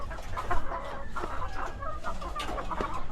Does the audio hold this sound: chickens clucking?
yes